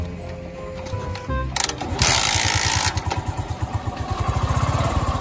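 TVS Sport motorcycle engine being started and revved by hand on the accelerator after a throttle cable replacement, a quick kick to life followed by a rapid, even putter with rising and falling revs, close by.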